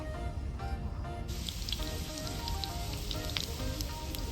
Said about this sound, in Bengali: এগুলো ভাজছি কিন্তু ফেটে যাচ্ছে